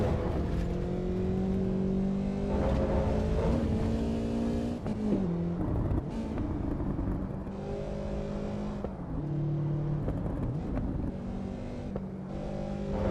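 Race car lapping the Nordschleife tourist layout in Assetto Corsa Evo, engine droning steadily and close, with repeated rev climbs, gear-shift dips and brief lifts throughout, no talk over it.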